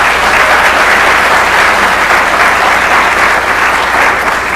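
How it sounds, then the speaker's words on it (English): Sustained, loud applause from a college staff audience at a spring closing meeting, steady clapping filling the room for several seconds with no talk over it. "can we give a round of applause to all of these incredible employees?"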